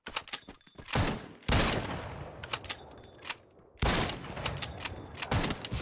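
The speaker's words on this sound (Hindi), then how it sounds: "शॉट पे शॉट चल रहे हैं, लेकिन अब तक खिलाड़ी नॉकआउट करने में असमर्थ" Gunfire in the battle royale game Garena Free Fire comes in several bursts of rapid shots, each stretch trailing off into a noisy tail before the next volley.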